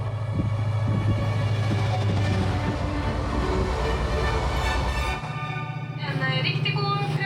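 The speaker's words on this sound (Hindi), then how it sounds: "ट्रेन नॉर्डलैंड रेलवे पर चल पड़ती है, ट्रॉन्डहाइम फ्योर्ड के किनारे किनारे" Loud, steady rumble of a train rolling along the tracks, a continuous low roar that shifts in tone partway through.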